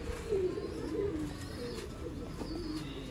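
Sialkoti pigeons giving low, rolling coos in a loft, soft and continuous, with a faint background hum.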